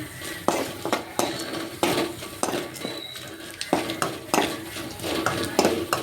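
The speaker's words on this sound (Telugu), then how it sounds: "ఇంకా పప్పు వేసేద్దామండి." Dal being added to a reddened tempering and stirred for palak pappu, repeated scraping and clinking of a ladle against the pot in an irregular rhythm over a faint sizzle.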